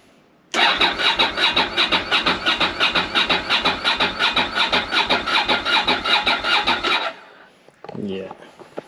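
A Ducati Monster 600 motorcycle engine cranks without firing because it is getting no fuel. The starter churns close and loud in a fast, even rhythm of pulses for about six seconds, then stops, followed by faint handling noises.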